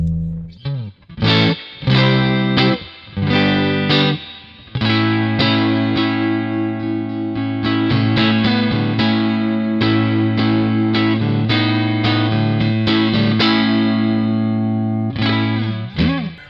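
Fender Hot Rod Deluxe guitar amp pushed into overdrive, loud distorted guitar chords and single notes ringing with sustain, close and alone.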